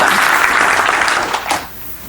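A live event audience applauds in a dense burst that fades out toward the end, leaving near silence after a last few claps.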